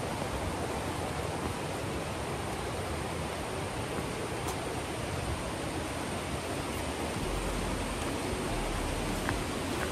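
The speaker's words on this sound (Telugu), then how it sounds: "వర్షం స్టార్ట్ అయింది" Rain falls steadily in a forest on a hill trail near Didupe waterfalls in Karnataka, a dense, even hiss that stays constant throughout with no voices.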